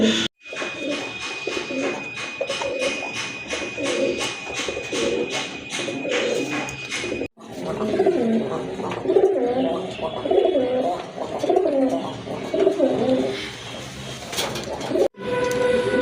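Satin pigeons coo steadily in soft, repeated throaty murmurs, several birds overlapping close by, with a thin high tone and a brief cut midway.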